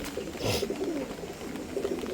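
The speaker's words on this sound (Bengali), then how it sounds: "এটা হচ্ছে নর কবুতর" A male pigeon coos softly and close by, a few low throaty rolling calls in quick succession against faint background noise.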